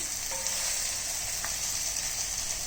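Stuffed okra (bhindi) sizzles and fries steadily in a pan over high heat, a continuous close hiss with no talking.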